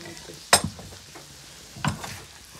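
Food fries in ghee in a home kitchen, a soft sizzle broken by two sharp stirring or utensil clatters about a second apart, with no voices over it.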